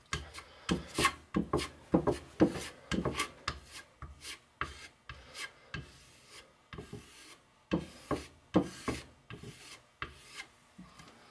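A razor blade scrapes excess metal flake inlay material off a guitar body in short, rasping strokes, grouped in bursts with brief pauses between them, close and clear, with no talking.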